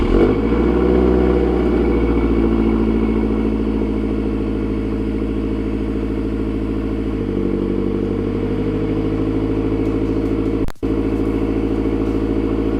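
Mazdaspeed 3 engine starting on a freezing cold day, then a loud, steady, close idle with a brief drop in level near the end, no talk.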